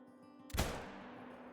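A bolt-action rifle fires a single sharp shot at an outdoor shooting range, standing out against a quiet background, and its report rings out and fades over about a second.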